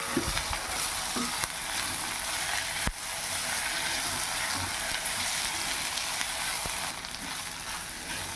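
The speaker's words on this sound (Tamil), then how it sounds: "இப்போ சுத்தம் பண்ணி வச்சுருக்க வாழைப்பூவை நம்ம சேர்த்து" Banana flower sautéing with tomato and onion in a pan for vazhaipoo chutney, giving a steady, close frying sizzle with occasional stirring scrapes and no talk.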